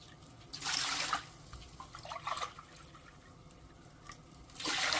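Water from a household cup is poured into a measuring cup while making pickled side dishes, in two short splashing bursts with quieter trickling and drips between, close and soft with no talking.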